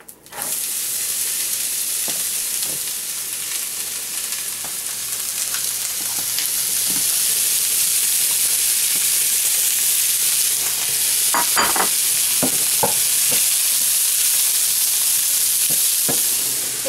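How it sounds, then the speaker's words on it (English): Onions and garlic sauté in a pan on a burner, a loud, dense, continuous sizzle and hiss close by with occasional clinks of a utensil, no talk. "now we're gonna saute the onions and garlic"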